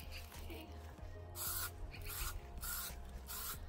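An aerosol spray can sprayed onto a person's skin outdoors in short hissing bursts, two or three close together over a low background rumble.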